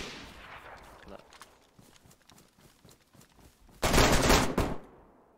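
AK rifle gunshots in DayZ at night, scattered distant cracks followed by a loud close burst of shots, with faint background game ambience.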